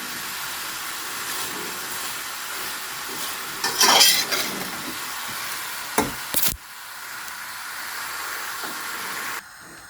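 Apples cook with sugar in a pan, a soft steady sizzle broken by a few scraping stirs around the middle before the sound drops quieter.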